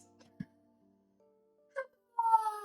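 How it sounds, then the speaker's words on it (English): A cat hiding under a couch gives a short low chirp, then a sharper mid-pitched call and a longer tonal meow at the end, each separated by near silence. "there's a cat under the couch"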